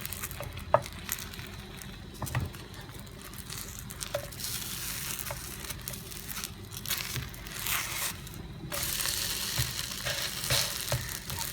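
Egg paratha frying on a hot pan gives a steady, moderately quiet sizzle with faint crackles and a few small pops spread across the clip, heard alone with no talking.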